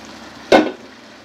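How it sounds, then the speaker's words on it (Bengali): Pieces of fried chicken drop into thickened cornflour gravy in a pan for chicken masala, making one short, loud splash and sizzle that fades over a low, steady simmer. "এটা গাঢ় হয়ে আসলে এখন দিয়ে দিচ্ছি ভেজে রাখা এই মাংসগুলি"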